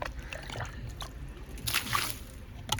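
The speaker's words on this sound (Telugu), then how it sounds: "కొంచెం నీళ్ళు పోసేస్తున్నాను." Water is poured at the base of a small Indian gooseberry (amla) plant in a home garden, beside freshly laid manure, giving soft splashing and trickling bursts outdoors at moderate volume.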